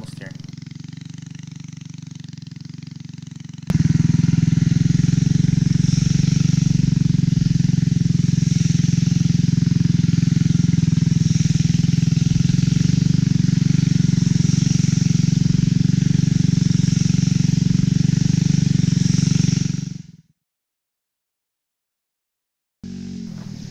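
Engine of a DTV Shredder tracked board running while riding, a loud steady roaring drone that starts abruptly, holds for about sixteen seconds, then cuts out to silence.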